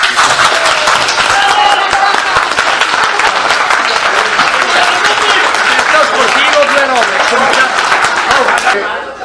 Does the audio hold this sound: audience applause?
yes